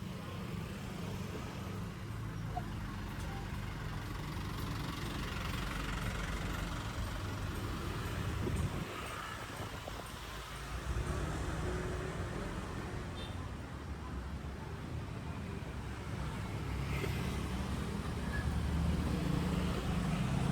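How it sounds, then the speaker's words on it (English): Street traffic on Legian street passes in a low, steady rumble of car and motorbike engines at moderate distance, with vehicles swelling by now and then and faint voices in the background. "You see the traffic? It is quite heavy, isn't it?"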